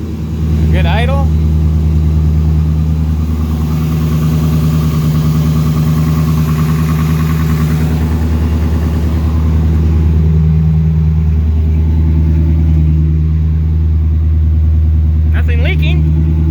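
A turbocharged LS1 V8 car engine idles steadily just after start-up with a priming fuel pump, a loud, even rumble throughout while someone talks over it.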